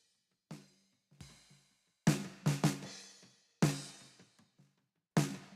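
A heavily compressed, saturated snare drum in a music mix, punchy hits with abrupt attacks and quick decays, spaced irregularly across a few seconds with silence between, close and loud, no talk.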